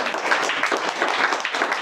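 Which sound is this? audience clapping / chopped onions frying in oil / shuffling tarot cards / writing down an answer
audience clapping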